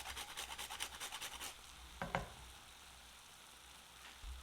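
Gojiya dough is stirred in a frying pan of hot oil, a quiet rhythmic scraping over a soft sizzle. A sharp clank follows, then a low steady hiss.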